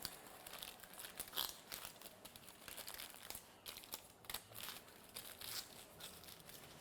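Hair foils crinkling during a balayage colouring, faint close rustling and crackling in irregular bursts throughout, with no talk.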